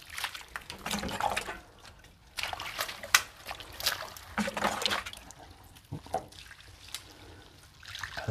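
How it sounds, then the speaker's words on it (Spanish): Water is splashed and poured onto a hot wall in repeated bursts, giving irregular sloshing and splattering sounds separated by short pauses. "Le damos de tomar bastante agüita a la pared."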